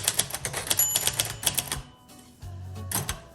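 A 1957 Royal Quiet Deluxe manual typewriter clatters with rapid close key strikes, then pauses briefly before a few more taps and a short mechanical slide.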